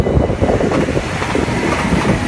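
A freight train rolling past at Nieuwstadt, loud and close, a continuous rumbling roar with rhythmic rattling of wagons and wheels throughout.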